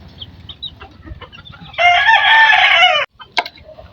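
A flock of chickens at feeding time clucks and chatters, then a rooster crows loudly and at length close by, followed by a brief cackle; no talking.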